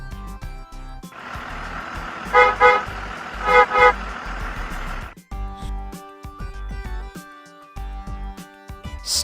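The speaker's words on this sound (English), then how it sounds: "Bus." A bus engine idles at close range while the horn honks in two short double bursts, then the engine noise ends and soft music follows.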